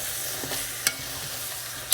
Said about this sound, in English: and we're going to give this a stir.